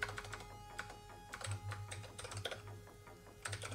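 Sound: typing on a computer keyboard

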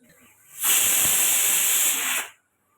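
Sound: pressure cooker whistle releasing steam on induction cooker

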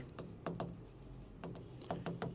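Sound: pen writing on paper, handwriting practice

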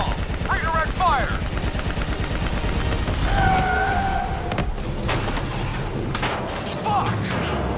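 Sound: gunfire in the video game Call of Duty Black Ops 3

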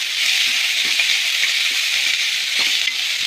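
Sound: chopped onions frying in a pan

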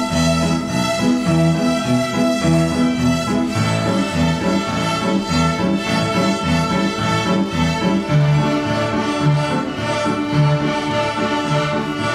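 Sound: Year 3 violins playing a tune

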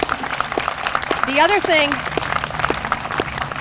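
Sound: audience applause at library groundbreaking ceremony

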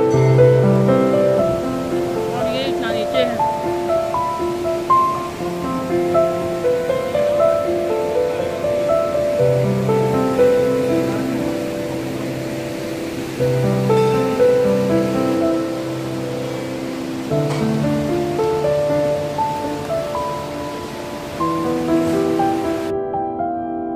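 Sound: flowing water at Tapkeshwar Mahadev temple cave path

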